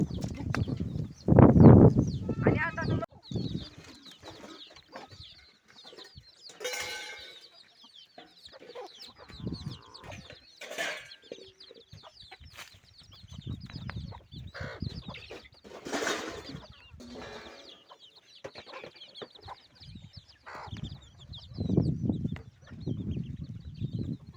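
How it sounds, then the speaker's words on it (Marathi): Chickens and a rooster clucking as they roam a farmyard, repeated close clucks and calls in scattered bursts with quieter gaps between them. "त्याच्या मागे आलेले आहे गुबू कोंबड ती गुबू कोंबड मी आलेली आहे आणि इकडे हिंडत आहे"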